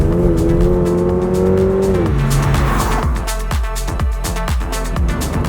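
A 2022 Subaru BRZ with a naturally aspirated engine revs loudly under throttle, its note climbing and then dropping as it shifts, with tire noise and a steady close engine drone throughout.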